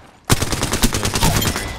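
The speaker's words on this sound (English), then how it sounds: "Getting shot at." Rapid automatic gunfire in a video game, a loud close burst starting abruptly and continuing as a steady rattle of evenly spaced shots.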